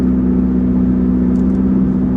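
A turbocharged car cruises with its engine emitting a steady, loud low drone and a smooth hum inside the cabin, unbroken for the whole stretch.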